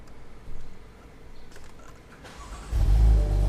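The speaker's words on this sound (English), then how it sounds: "let's get the car started" A BMW M4 F82 with an Akrapovič exhaust starts up: a low idle gives way to a sudden loud, deep engine roar that flares and then holds a heavy, rumbling idle close by.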